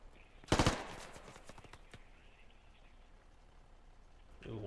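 Burst of rapid video-game gunfire from a squad shooter, loud and close for about half a second, followed by a few scattered single shots and low background ambience.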